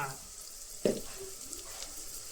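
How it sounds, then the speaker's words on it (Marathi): Mutton masala with turmeric and Kashmiri red chili powder is stirred over a wood-fired village stove: a soft, close sizzle with one sharp knock of the spoon against the pot early on. "ह्या सगळा एक जीव करून हलवून घ्यायचा"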